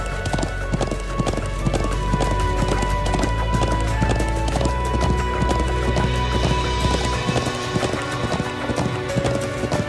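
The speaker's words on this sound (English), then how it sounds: "I'm glad I still remember how to ride a horse." A horse gallops in Trails of Cold Steel II, a role-playing video game, its hooves pounding in a fast, even, loud rhythm over continuous music, with a whinny-like cry mixed in.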